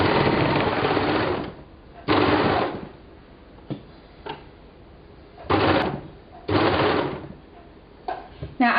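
A sewing machine stitches binding onto a T-shirt in short, loud mechanical bursts of rapid whirring, about five runs separated by pauses with small clicks between them, close up and with no talking.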